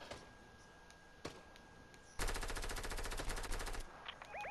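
Gunfire in the Fortnite video game, a couple of isolated sharp shots followed by a rapid automatic burst of about a second and a half, loud and close, then quieter game effects.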